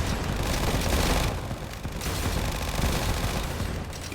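Warden tower in the Roblox tower defense game Tower Defense Simulator firing at rocks, with dense, continuous rapid gunfire crackling loudly throughout, in a brief pause around the middle.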